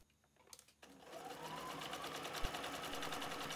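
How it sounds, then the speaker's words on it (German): Sewing machine stitching fabric onto fleece for a small zippered bag, starting up after a moment of quiet and then running in a fast, steady, close whir for the rest of the clip. "So wird der Stoff auf das Vlies genäht."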